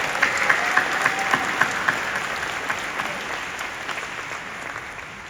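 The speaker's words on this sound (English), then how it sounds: "Let's all give them a great round of applause for these amazing individuals." Audience applause fills a commencement ceremony hall at California Northstate University in 2024. The clapping is loud and dense at first with sharp claps on top, then slowly thins and fades.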